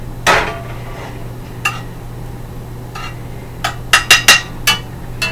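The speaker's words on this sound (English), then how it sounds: "And of course I'm using the good old iron skillet." A cast iron skillet is handled on a stove, giving a few sharp metallic clanks and scrapes, one early, one mid-way, then a quick cluster of knocks near the end, each fairly close and clear, with no talking.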